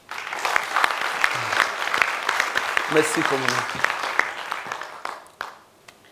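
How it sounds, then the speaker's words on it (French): An audience applauds warmly at a French talk-show style café debate, a dense patter of many clapping hands that fades out near the end, with someone speaking briefly over it. "je voudrais qu'on applaudisse bien ce garçon."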